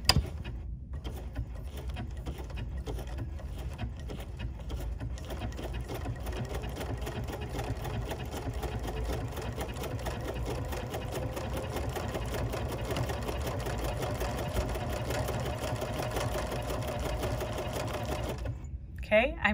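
A sewing machine stitches steadily along a quilt seam for an embroidered crazy quilt, a close, continuous whirring hum that runs almost the whole time with brief stops at the start and end, and a voice talking over it.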